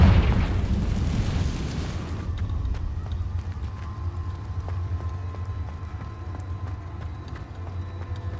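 A Confringo blasting spell detonating in Hogwarts Legacy, a loud explosive burst in the first couple of seconds that fades into a low rumbling tail and faint ambient game noise.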